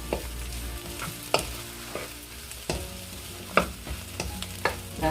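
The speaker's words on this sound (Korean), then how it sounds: "자, 한 5분 정도 저는 더 졸일 건데요" Bamboo shoots reducing in a braising sauce in a pan, a soft sizzling simmer broken by several sharp stirring scrapes and clacks at irregular intervals, fairly quiet and close.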